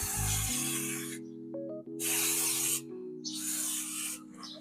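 A brush scrubs motorcycle CVT parts with a strong cleaning solvent, three bursts of harsh, close rubbing separated by short pauses, with a low steady hum underneath.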